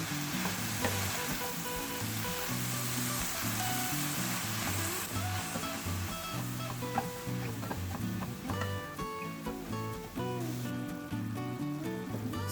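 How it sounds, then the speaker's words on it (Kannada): Palak spinach fries in a pan for a corn palak sandwich, a steady broadband sizzle with stirring, joined throughout by a loud musical backing of rhythmic tones. "ಸೊಪ್ಪು ಕೂಡ 2 ಮಿನಿಟ್ಸ್ ಫ್ರೈ ಮಾಡಿದ್ದೀನಿ"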